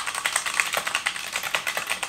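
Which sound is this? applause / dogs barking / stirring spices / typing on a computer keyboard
typing on a computer keyboard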